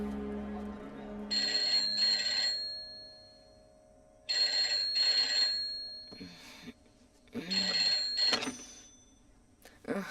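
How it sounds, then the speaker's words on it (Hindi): A telephone rings in three repeated bursts separated by pauses, with nobody picking up; a few faint clicks and rustles sit between the rings. "वो थी कि फोन ही नहीं उठा रही थी"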